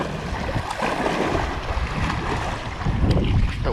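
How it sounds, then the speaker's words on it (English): Strong wind roars steadily across a bass fishing pond, a continuous broadband buffeting on the microphone with gusts swelling near the end, and no voices. "the wind is crazy over here."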